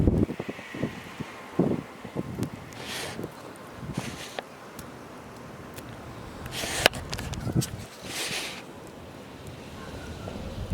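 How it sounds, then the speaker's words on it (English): Gusty wind buffeting the microphone outdoors during a winter snowstorm in New Jersey, with irregular roaring gusts and rumble, plus faint rustling and occasional footsteps-like thumps. "You can see it's getting a little gusty out here."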